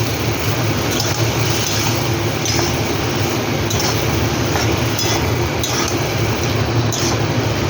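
Spiced fish curry with tomato, turmeric and salt is stir-fried in a pan, giving a loud, constant sizzle punctuated by sharp metallic clinks of the spatula at irregular intervals, with no talking.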